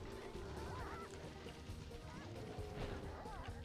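Roosters and chickens in the Sly Raccoon video game give several honking, squawking calls over a busy low game background, with a voice talking underneath.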